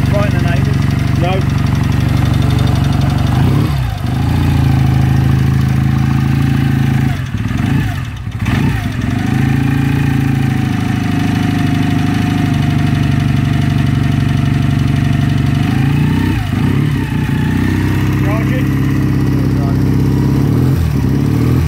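A 1956 Ariel KH Fieldmaster 500cc motorcycle idles steadily nearby with a soft, muffled, even note that runs throughout, while people talk over it.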